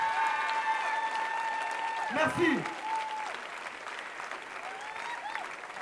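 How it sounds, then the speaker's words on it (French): An audience applauds steadily at a breakdance battle event, moderately distant clapping over music with tonal notes, while a voice speaks briefly. "J'aimerais que vous vous applaudissiez tous s'il vous plaît."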